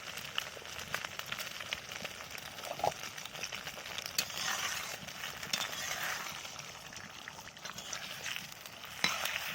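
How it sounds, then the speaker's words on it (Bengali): Three beaten eggs frying in hot oil in a home kitchen, a quiet, steady sizzle with scattered pops and occasional clicks of stirring, close by. "দিয়ে দিলাম এটাকে ভালো করে ভাজার জন্য"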